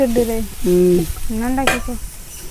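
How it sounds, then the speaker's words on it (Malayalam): Onions frying in hot oil for jackfruit puzzhukku in a home kitchen, a steady sizzle under intermittent tonal voice-like sounds, with a brief sharp burst near the end. "ഇതാ മൂത്ത് വന്നപ്പോൾ ഉള്ളി ഇട്ട് കൊടുക്കുന്നുണ്ട്"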